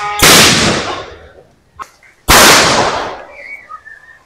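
A homemade bamboo cannon (boga) fires twice, two loud, close booms about two seconds apart, each decaying slowly, with a faint knock between them.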